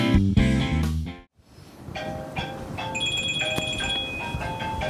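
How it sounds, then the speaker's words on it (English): A phone rings with an incoming call, a repeating electronic ringtone with tonal beeps that starts after a short silence and continues at moderate level alongside some background noise. "I got a phone call."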